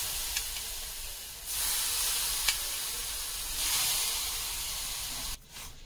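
Spoonfuls of boiled milk sizzle and hiss as they hit semolina roasting in ghee in a pan over a low flame. The steady frying hiss swells twice, is close and fairly loud, and carries no talking.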